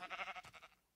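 A sheep bleating in Minecraft, one short wavering bleat with a quick tremolo pulse that fades out, close and clear.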